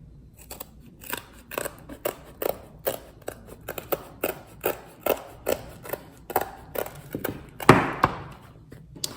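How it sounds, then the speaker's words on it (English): Scissors snip repeatedly through a carved linoleum relief print block, a steady series of crisp cuts roughly every half second, close and clear with no voices. "if you didn't cut all the way through, you can always use scissors, but you won't get a clean cut or clean line."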